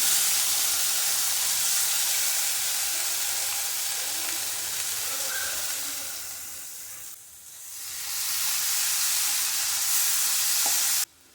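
Ground tomatoes sizzling and being stirred in a kadai pan, a steady loud frying hiss that dips briefly midway and then swells back, with faint scraping of stirring underneath.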